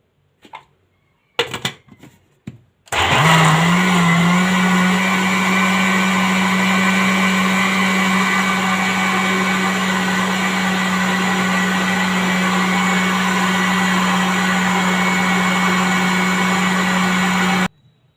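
An electric blender mixes a mango smoothie with a spoonful of whipped cream, starting after a few clunks and then whirring loudly and steadily for about fifteen seconds before stopping abruptly.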